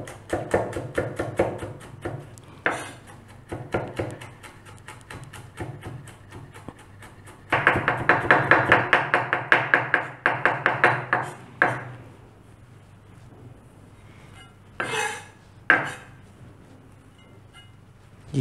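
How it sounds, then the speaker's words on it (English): A knife chops a mashed garlic clove finely on a board, making quick, rhythmic taps. The strokes come in short runs with a denser, louder flurry midway and scattered chops toward the end. "I'm going to start with the garlic clove. Mash it up first and chop it"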